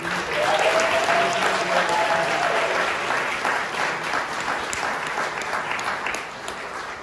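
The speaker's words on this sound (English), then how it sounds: "give all the successes that we've just heard the superintendent report, and certainly attributable to the great leadership of the board, another big rousing applause" Audience at a school board meeting for the Alief school district applauds steadily for several seconds, a dense roomful of clapping that slowly thins and fades toward the end.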